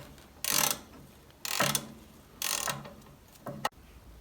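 Socket wrench ratcheting on a 9/16 nut and bolt of a 1976 Bolens G12 garden tractor: four short bursts of close ratchet clicking at roughly one-second intervals, the last one quicker, with quiet gaps between.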